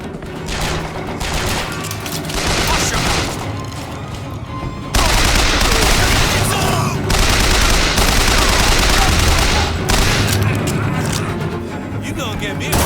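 Sustained, loud gunfire from the Bioshock Infinite video game: dense, overlapping rapid bursts that swell louder midway, mixed with shouting voices.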